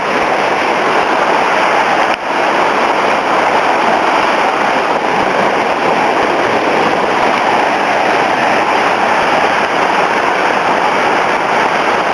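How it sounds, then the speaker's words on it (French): Monsoon rainwater pours down a usually dry alley in Seoul, a continuous, dense, even splashing flow nearby that stays loud and unbroken throughout. "comme il y a de l'eau qui vient de la rue là-haut"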